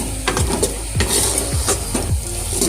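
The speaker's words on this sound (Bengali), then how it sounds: "এখন আমি এটা ভালো করে নেড়ে নিতে হবে" A spoon stirs thick homemade semai dough in a pot, close scraping and knocking strokes repeating roughly every half second in a steady rhythm.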